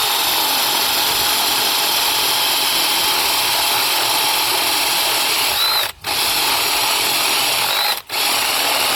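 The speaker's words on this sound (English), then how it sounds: "what I'm doing right now is putting holes through some reinforcing boards that'll be inside the new composting bin." A power drill bores holes through reinforcing boards for a tumbling composting bin, a loud, steady high-pitched whine running continuously, broken by two brief stops, with no talk.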